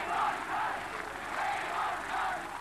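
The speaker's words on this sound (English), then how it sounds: "A crowd, sensing that there might be something going on, was screaming and yelling" A motor racing crowd roars and chants in rhythmic swells, a dense continuous wall of screaming and yelling from a distance.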